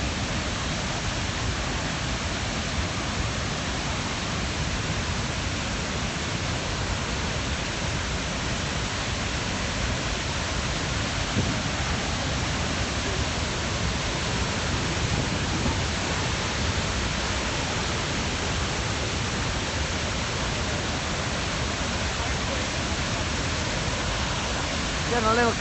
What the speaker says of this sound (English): I guess you can hear the roar of the water pretty clearly as well.